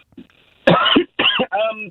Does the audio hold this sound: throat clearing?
yes